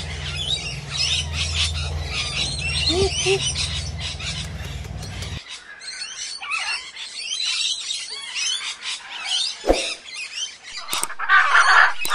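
Birds call at the Iguazu bird park among macaws, with loud harsh squawks and shrill chirps layered over a low droning hum early on, then sharper scattered cries and squeals near and far.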